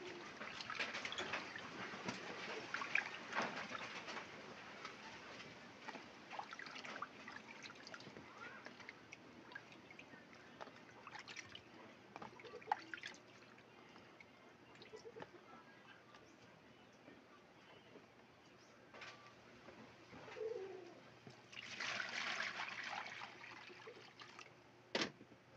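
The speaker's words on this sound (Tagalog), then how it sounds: "Hugasan natin yung dalawang beses." Moonfish washed under running water, a faint steady splashing flow with gurgling swells, quiet and somewhat distant, with a louder burst of water near the end.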